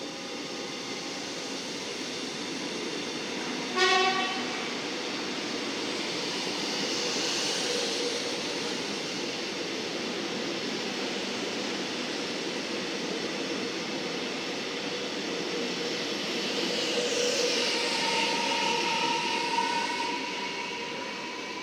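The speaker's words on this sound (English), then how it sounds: "So this train's coming through." A Metro Melbourne train runs through platform 6 at a station, a long, steady rumble that swells and fades, with a brief tonal signal near the start and squealing wheels late on, and no voices.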